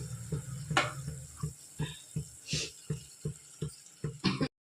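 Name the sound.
stirring a batter in a pot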